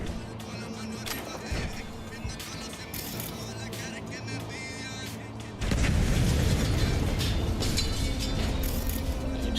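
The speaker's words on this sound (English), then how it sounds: "Explosions." Explosions and gunfire from the video game Cyberpunk 2077 thud and crackle in bursts, swelling into a loud, dense blast partway through, mixed with game sounds.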